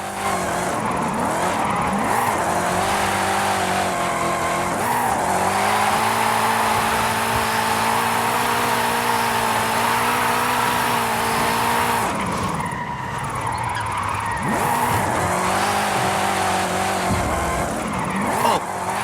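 A racing car engine in Forza Horizon 5 screams at high revs while tires squeal continuously through long drift slides, with shifting pitch and a brief dip midway.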